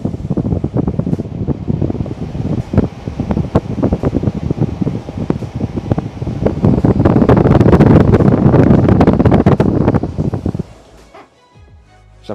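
A Levoit Vital 100S smart air purifier running its fan in turbo mode gives a loud, steady rushing whoosh of air, close and continuous, before cutting out abruptly near the end.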